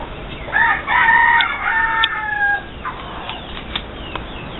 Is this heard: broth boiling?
no